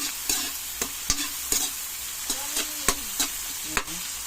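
Mussels and bell pepper stirred in a cooking pan: a steady close sizzle broken by about nine sharp scrapes and taps of the utensil at uneven intervals, with no talking.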